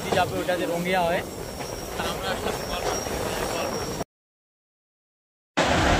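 A local train rolls toward Kamakhya Junction with a steady rumbling clatter and hiss, a voice briefly audible near the start, before the sound cuts to silence and then returns.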